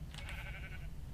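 A sheep in the Minecraft video game gives a single clear bleat, wavering and nasal, lasting under a second over a steady low game background hum.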